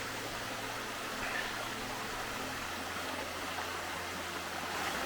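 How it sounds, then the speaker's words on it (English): A small waterfall and several streams on the Pipeline Trail near Boquete, Panama, give off a continuous soft rushing of water, steady and moderately distant, with no voices. "there's not a whole lot of water coming over that waterfall"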